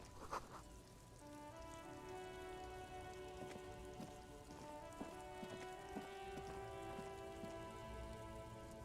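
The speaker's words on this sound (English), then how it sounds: "All around you, rain falls on the great city of Rivers." Steady rain falling and pattering on surfaces in the video game Disco Elysium, soft and continuous with scattered droplet ticks under a faint tonal music bed.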